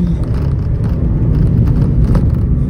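A Mazda MX-5 RF sports car driving through a short tunnel, heard from inside the cabin as a loud, steady engine and road roar with a full low rumble and no talk.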